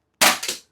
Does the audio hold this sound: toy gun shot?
yes